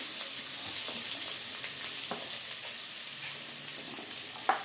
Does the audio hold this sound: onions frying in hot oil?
yes